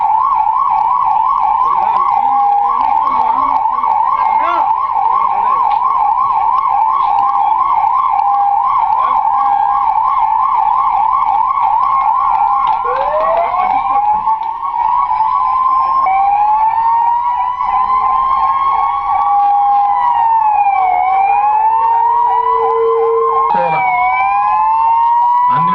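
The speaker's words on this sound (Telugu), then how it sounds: "మొత్తం ఆల్ ఆఫ్ అన్ని వెహికల్ సైరన్ వేయాలి," Several 108 and 104 ambulance sirens wailing together at a flag-off event in Nellore, loud overlapping yelps and rising-falling tones sustained throughout, with the mix shifting as more sirens join midway.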